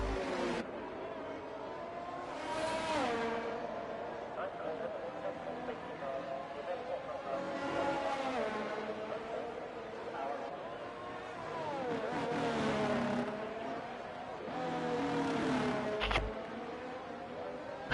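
Aston Martin race car engines in a racing video game hum and rise in revs through repeated acceleration swells, moderately loud, while a commentator talks over them.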